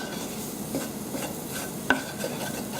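White sauce cooks on low heat in a pan, a steady soft sizzle and bubble with a faint stir or tap, close and continuous, no voices.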